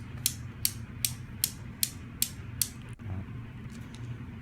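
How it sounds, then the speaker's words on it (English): Newton's cradle steel balls clacking in a steady run of seven sharp metallic clicks about 0.4 seconds apart, each crisp and close, then stopping and leaving a low room hum. "one of the most fascinating demonstrations of these collision things is something called Newton's cradles"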